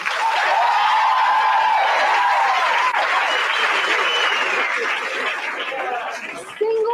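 Single members of a comedy show audience answer with loud applause, whoops and cheering mixed with laughter and chatter, sustained for several seconds before fading.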